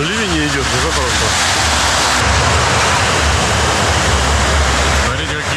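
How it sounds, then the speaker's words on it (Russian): Rough ocean surf about a metre and a half high breaks on a Sri Lankan shore, a loud continuous roaring wash of water close by, with a voice speaking briefly at the start and end. "Смотрите, какие волны."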